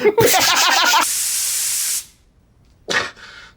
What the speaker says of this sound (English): When the red light goes on, the spraying's about to start, so close your eyes.